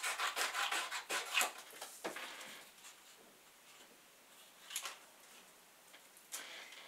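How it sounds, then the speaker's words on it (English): Scissors cut a strip of black card along its edge, making quiet crisp snips and rustling paper rubs in a few bursts, close and soft. "we're just cutting a strip of black card right down the edge of the black card"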